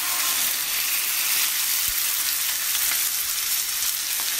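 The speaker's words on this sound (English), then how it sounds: "you can start putting the meat, okay? And this is a T-bone steak, so this is very fast." A T-bone steak sizzles steadily in a hot pan, a dense, even frying hiss held at a constant level with no voices.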